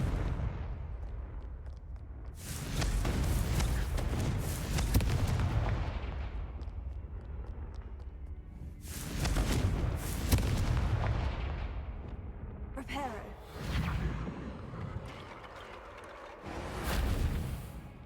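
Fire spell explosions from the Hogwarts Legacy video game burst in several loud, booming blasts, each swelling and rumbling for a couple of seconds before fading, repeated four or five times with crackling tails.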